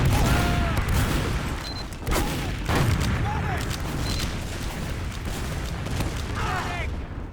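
An in-game bomb explosion in a competitive match between Rhodes Island and Ithaca booms through a dense clamour of gunfire and effects, with several heavy low bursts in the first three seconds, and a commentator talks over the action.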